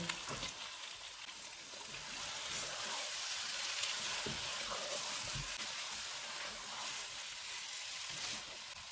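Steady, dense sizzling of 500 grams of potatoes frying in a hot pan for aloo kofta, a continuous crackling hiss with occasional stirring scrapes, no talking.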